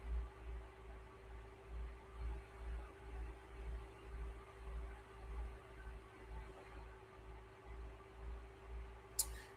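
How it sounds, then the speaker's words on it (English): A computer fan gives a steady low electronic hum with a faint pulsing drone throughout, quiet and constant, ending with a brief click. "I think y'all hear the computer fan."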